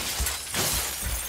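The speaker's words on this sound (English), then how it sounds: "Raining glass." Glass windows being punched out and shattering in a shooter video game, a dense burst of breaking-glass crashes with low thumps repeating through the whole short moment.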